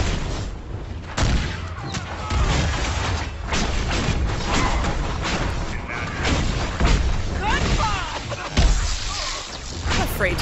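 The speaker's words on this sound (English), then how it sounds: "And the explosions." Repeated booming blasts and gunfire-like bursts fill a dense, continuous Dragon Age: Inquisition soundscape, with loud impacts recurring every second or two.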